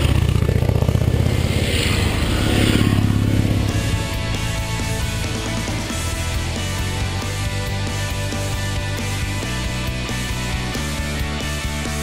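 Motorcycles, among them a Harley Low Rider, Honda NC700x and Kawasaki W650, ride on a mountain road with a steady, close engine drone that rises and falls as they shift, alone with no talk.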